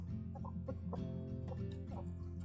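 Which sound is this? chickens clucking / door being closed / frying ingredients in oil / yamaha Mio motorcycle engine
chickens clucking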